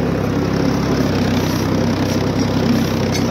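Close and loud, a tractor engine hums in an unbroken, even drone while pulling a plough across a field near Faisalabad, Punjab, with no voices over it.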